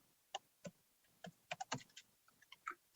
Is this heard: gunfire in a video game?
no